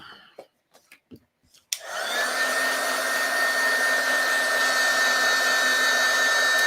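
After a few soft taps and rustles, a heat dryer switches on abruptly and blows a loud, steady whine over stamped ink on a card, continuing without talk.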